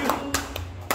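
Several people clap at a birthday cake cutting, a few quick sharp claps spaced across a brief moment while voices talk underneath.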